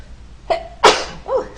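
A single sharp sneeze bursts out mid-clip, preceded by a short voiced intake and followed by a brief softer exhalation, close and fairly loud in a quiet room.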